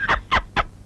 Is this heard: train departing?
no